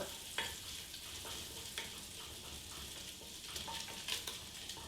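Bacon sizzles and crackles steadily in a hot pan, a dense hiss with scattered pops and occasional stirring, close and fairly quiet.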